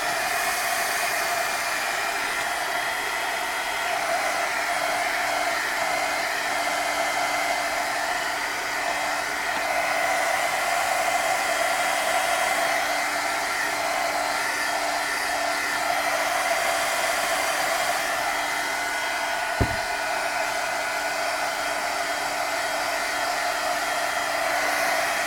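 A hair dryer blows steadily on drying glue, a continuous close whooshing hum that stays even and uninterrupted apart from one tiny click.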